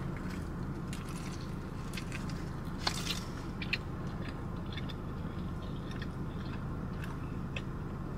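Someone chews a hash brown bagel sandwich with egg and chipotle sauce, soft and close, under a steady background hum with a few faint crunchy bites and no talking.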